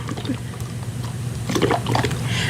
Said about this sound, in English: I'm just kind of moving the paper around as I blow into the straw.